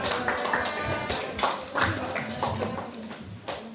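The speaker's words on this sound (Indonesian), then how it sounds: "Tepuk tangan untuk Pak Amin." Scattered applause from a small audience at a school teachers' dissemination session in Indonesia, a sparse run of claps of uneven strength that comes and goes over a steady room background.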